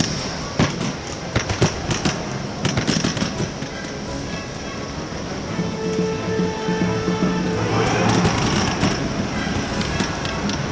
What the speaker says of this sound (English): They're actually firing against something.